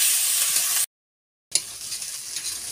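Ginger and chili paste sizzle steadily in a hot pan while being stirred, a close bright frying hiss that cuts out briefly and then resumes.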